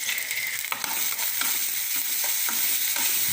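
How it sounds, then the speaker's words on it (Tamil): Food sautéing in a pan with salt added for a Chettinad chicken masala, a steady close sizzle and frying hiss with repeated stirring scrapes and clinks throughout, no talking. "உப்பு கொஞ்சம் சீக்கிரம் வதங்கட்டும்"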